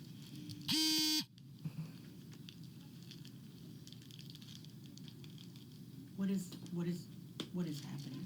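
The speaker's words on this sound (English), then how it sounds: "This is a portable breathalyzer machine." A portable breathalyzer machine gives one loud, steady electronic beep lasting about half a second, followed by quiet room noise and a few brief voices speaking faintly afterward.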